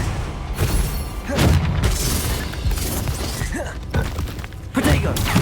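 Confringo spell blasts go off in the Hogwarts Legacy video game, heavy booming bursts and crackling impacts layered over dense battle effects, loud and continuous with brief thumps.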